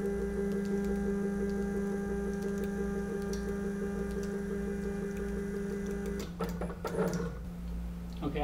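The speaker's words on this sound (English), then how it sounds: "And then let's home the machine." A Probotix ATLaS CNC machine homes its axes: steady tonal motor whine and electrical hum hold for several seconds, then break into a few sharp mechanical clicks and shuffles as the axes stop, close by and without speech.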